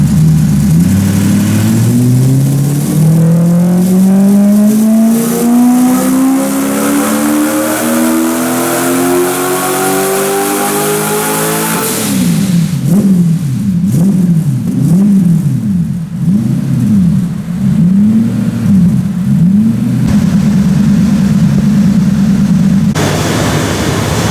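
A Toyota 1UZ turbo V8 in a 200SX on a dyno, loud and close, revving in one long rising pull, then dropping to a lower, wavering rev that rises and falls rhythmically before settling into a steady high idle.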